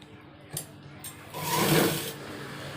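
A sewing machine runs in a short burst, stitching a small tuck at the waistband end of dress pants, with a couple of faint clicks before a louder whirring run close by.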